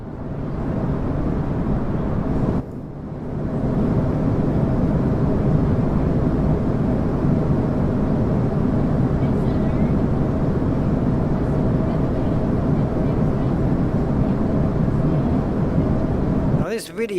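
Steady, loud broadband rumble of an Airbus A320 cabin in flight, a continuous engine and airflow drone that holds level throughout, with a brief dip near the start.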